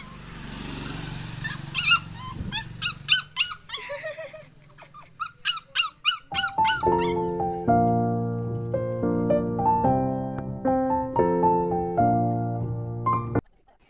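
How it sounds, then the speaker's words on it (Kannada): A dog yelps and whimpers in a rapid series of high squeaky cries, then gives longer whining howls, close and fairly loud. "ಯಾವುದೋ ನಾಯಿ ನಮ್ಮ ಮನೆ ಹತ್ರ ಬಂದಿತ್ತು"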